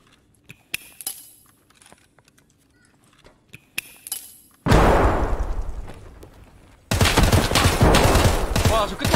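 Grenades and gunfire in Escape From Tarkov, starting with sparse clicks and sharp taps, then a loud close grenade blast that decays, followed by another heavy burst of explosive noise near the end.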